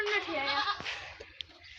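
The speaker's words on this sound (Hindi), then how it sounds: "ये बकरी है हमारी" A goat on a goat farm lets out one loud, wavering bleat close by, followed by quieter background noise.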